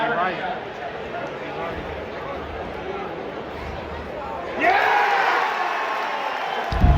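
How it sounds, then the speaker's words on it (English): A baseball crowd at Yankee Stadium roars over a steady murmur of chatter and then swells louder, reacting to an overturned strikeout call. "You heard the crowd's reaction to that overturned call."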